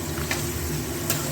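Onion and potato fry in a pan over high flame with turmeric and spices, a steady close sizzle with light stirring scrapes, no voices.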